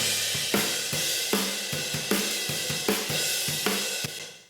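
A drum kit heard from overhead, roomy and washy with bright cymbals over steady kick and snare hits in a regular beat.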